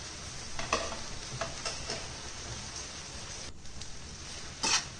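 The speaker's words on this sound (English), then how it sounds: "Ensure it is mixed thoroughly with the onion and the tomatoes." Ginger garlic paste being stirred into onions and tomatoes in a pan on the stove, a steady soft sizzle broken by scraping spoon strokes at irregular intervals, close and moderately loud with no talking.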